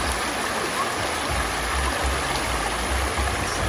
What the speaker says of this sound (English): Listen to the beautiful sound of the water